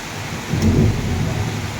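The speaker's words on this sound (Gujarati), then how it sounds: "જો ગાજવાનું તો ચાલુ જ છે" A low rumble of thunder swells over steady rain falling on surfaces, with a continuous wash of drops throughout.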